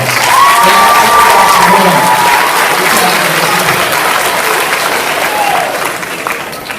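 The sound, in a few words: audience applause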